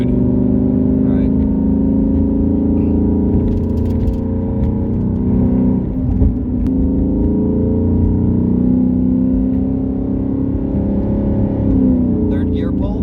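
A 2019 Ford Mustang GT running E85 fuel accelerates hard in third gear, its loud V8 drone rising steadily throughout, heard from inside the car with a voice talking over it.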